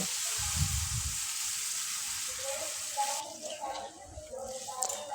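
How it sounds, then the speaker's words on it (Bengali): Water poured into a hot pan of sizzling ridge gourd and potato with poppy-seed and green-chili paste, a steady loud hiss that gives way after about three seconds to quieter bubbling and scattered clatter. "এবারে দিয়ে দেব জল"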